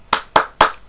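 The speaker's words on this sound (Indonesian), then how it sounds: "Tepuk semangat." Three sharp, evenly spaced claps ring out loud and close in a classroom, a children's rhythmic spirit clap done before a lesson, with no talking over them.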